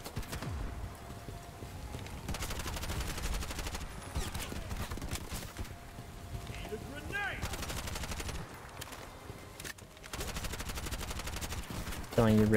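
Rapid gunfire in a video game boss fight, with bursts of automatic shots rattling continuously across the clip amid dense game effects and music, and a loud closing thump.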